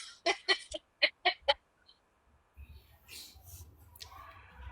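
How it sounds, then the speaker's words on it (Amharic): A hen calls in a quick run of about six sharp, close bursts, then falls quiet as faint low rumbling and soft background murmur follow. "ሶስቴ ነው የጮችው እቺ ዶሮ"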